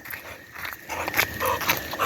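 A dog close by making short whiny vocal sounds and snuffles outdoors on a day at a river, a few brief yips and whimpers over light ambient noise.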